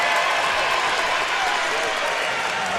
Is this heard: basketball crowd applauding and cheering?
yes